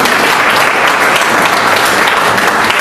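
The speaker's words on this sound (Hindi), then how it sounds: "एक बार जोरदार ताली बजा दीजिए" A large audience at a Vestige business event bursts into loud, close, continuous applause, a dense uniform wall of clapping with no pauses.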